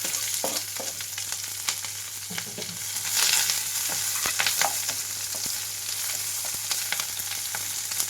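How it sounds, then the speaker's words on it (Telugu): Curry leaves, green chillies and onions fry in hot oil for a buttermilk curry with bajji, giving a steady close sizzle with intermittent sharp spatters and scraping stirs, plus a low background hum. "ఇవన్నీ వేగేటప్పుడే ఇందులోకి రెండు కరివేపాకు రెండలు అలాగే కట్ చేసి వస్తున్న పచ్చిమిరపకాయలు అలాగే ఉల్లిపాయలు"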